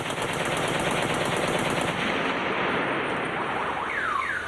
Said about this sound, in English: those are the opposition's weapons firing at Lebanon